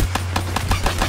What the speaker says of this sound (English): It's that four burst weapon.